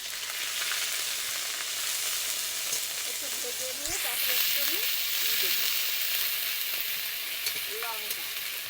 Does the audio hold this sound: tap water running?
no